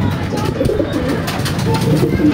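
Racing pigeons cooing nearby on a roof, soft throaty rolling calls repeating over a dense background of rustling and outdoor noise.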